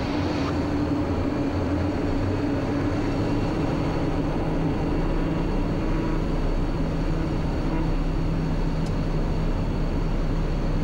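A TBM 960 turboprop airplane on its takeoff roll, heard from inside as a loud, steady engine drone with a deep rumble that holds throughout.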